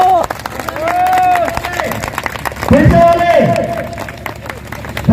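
A seminar audience claps in Ranchi, a scattered crowd applause running under a voice and cheering tones, with a brief spoken word near the end.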